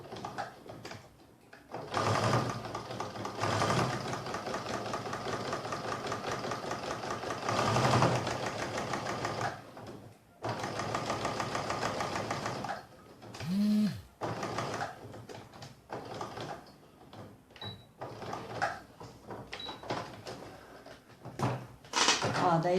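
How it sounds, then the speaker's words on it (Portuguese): A sewing machine runs in long steady bursts, stitching all the way around a traced pattern on layered fabric for a drink coaster, with brief pauses and a few short backstitches near the end. "daí eu bati uma costura na volta todinha do risco que eu fiz do molde"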